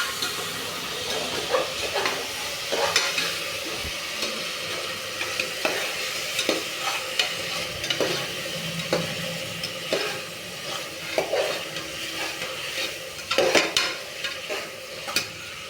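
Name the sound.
tomato and onion sautéing in a pan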